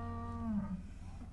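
A single cow on a dairy farm in the south of the Isle of Man, one of a 140-head herd, gives a short, clear moo, fairly close and alone.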